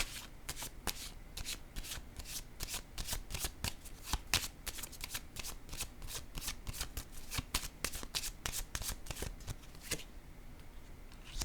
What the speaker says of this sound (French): C'est très positif quand je regarde les cartes.